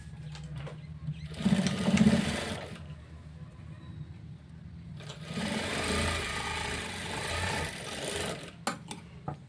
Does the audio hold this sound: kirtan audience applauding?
no